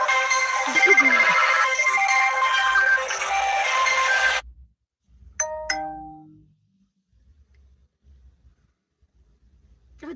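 A phone ringtone plays as a bright melodic chime lasting several seconds and then stops abruptly. A few short electronic tones follow it in a quiet room.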